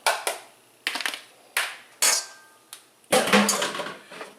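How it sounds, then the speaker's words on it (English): Vegetables tipped into a chicken pot pie dish give a close series of sharp clattering thumps and rattles, spaced out and then bunching into a longer jumble near the end, with no talking. "we want to dump these vegetables in here"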